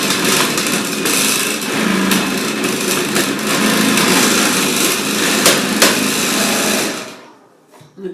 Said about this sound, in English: I always grate the apple a little bit larger